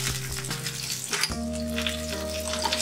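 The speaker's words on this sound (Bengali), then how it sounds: "ফোড়নটা ভাজা হয়ে গেছে, এর মধ্যে এবার ভেজে রাখা আলুগুলো দিয়ে দিলাম" Pre-fried potatoes tipped into whole spices frying in oil in a pan for a Bengali tangra fish curry, giving a loud sizzle with a brief clatter as they drop in, then steady frying.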